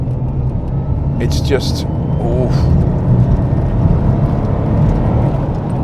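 A Lotus Carlton accelerating in third gear, its engine a loud continuous rumble under road and wind noise, while a person talks briefly over it.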